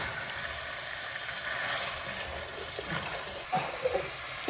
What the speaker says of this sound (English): And now we're going to start sauteing this for a little bit.